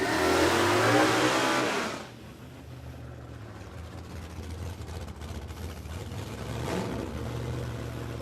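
Holden Torana cars, an LJ and an LX hatchback, at a no-prep drag race at Warwick Dragway, a loud roar fading after two seconds into a lower engine rumble with some revving, heard in an open outdoor setting.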